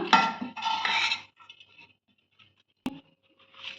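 Pudina masala mandakki, puffed rice tossed with fried mint masala, being mixed in a bowl: two scraping, rustling strokes, quiet pauses, then a single sharp clink of a utensil against the bowl and a final soft stir.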